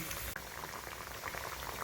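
Amrutham powder snacks bubble and crackle continuously in oil over a medium flame, a dense, close frying hiss with no pauses and no talk.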